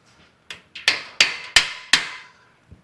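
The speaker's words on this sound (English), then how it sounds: "Well, watch, because I have a bigger hammer." A bigger hammer strikes a metal shelf part in six sharp, ringing blows at a steady pace, close and loud, with a faint final tap after a pause.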